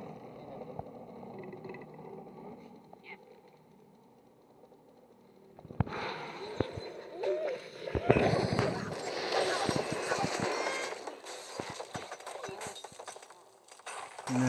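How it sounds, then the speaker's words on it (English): Rocket blast in the Angry Birds 2 video game, a sudden loud burst followed by a dense clatter of collapsing structures and scattered debris impacts that keeps going for several seconds after a quieter stretch of game sound. "Dang rocket's blowing up all our stuff right here when it falls."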